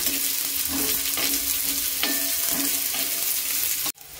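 Finely chopped dried shrimp roasting in a pan gives a steady, close crackling sizzle with occasional utensil scrapes and taps, cutting off abruptly near the end.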